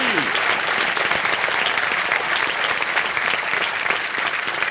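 Studio audience on the KBC game show bursts into loud, dense applause that carries on without a break, many hands clapping together close by.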